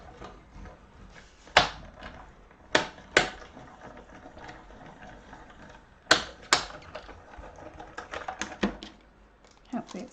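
A die cutting machine runs a cut in a crafting room, producing a series of sharp mechanical clunks and thumps spaced irregularly, with scattered rattling between them and some talking mixed in.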